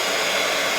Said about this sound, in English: I'm going to heat set them as I go because I think it will help you if you're newer to embossing.